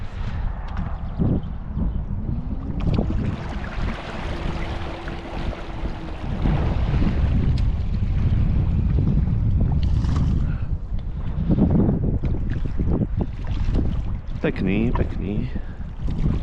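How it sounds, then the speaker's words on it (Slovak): Strong wind buffets the microphone at a gravel pit carp-fishing spot, a steady loud rumble throughout with gusts swelling around the middle and end, while someone talks over it. "Celkom pekne fúka dneska."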